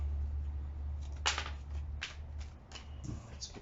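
Tarot cards being shuffled by hand, a few short crisp riffling bursts spaced apart over a low background hum, close and fairly faint, with no talking.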